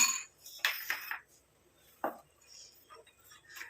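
An iron kadai is set on a kitchen stove, making a few quiet metallic clanks and clinks of cookware with pauses between them, while faint sounds of the kitchen continue.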